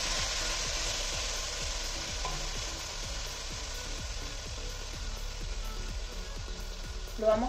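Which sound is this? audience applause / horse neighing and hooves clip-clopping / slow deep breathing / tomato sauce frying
tomato sauce frying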